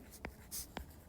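A pen or pencil writes a geometry proof by hand on paper, with two short, crisp scratching strokes close up and a brief smooth scrape between them.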